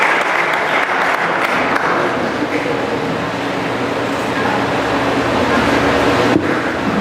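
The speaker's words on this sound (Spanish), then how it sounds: "dale un aplauso al Señor y tome su lugar." A church congregation applauds the Lord in a sustained, loud wash of clapping that fills the hall for several seconds, steady and dense, with a low rumble of voices beneath.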